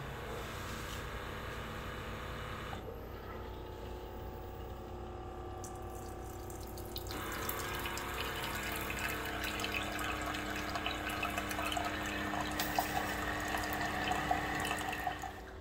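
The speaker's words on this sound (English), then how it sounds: "So the coffee just got done brewing." A Keurig coffee maker brews an 8-ounce cup of dark chocolate flavored coffee. Pump hum and gurgling liquid run throughout, and the sound turns fuller and louder partway through as coffee pours steadily into the cup.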